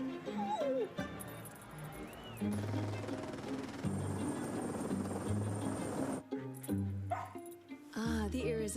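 Dog barking in a dog-food commercial for Caesar warm bowls, with several short yips and whimpers scattered among music and a voice talking, plus a whirring, spinning sound in the middle.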